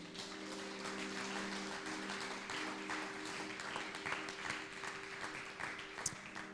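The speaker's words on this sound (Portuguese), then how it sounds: "Você pode aplaudir Jesus?" Church congregation applauding in a steady wash of clapping, with a sustained organ-like tone humming underneath and a sharp louder clap near the end.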